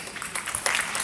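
An audience applauds senior players, around 70 years old, at a finals event, a brief burst of dense clapping that swells in uneven waves.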